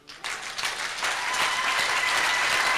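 A church congregation breaks into loud, sustained applause that swells quickly after a brief quiet start and holds as a dense, even roar of many hands clapping.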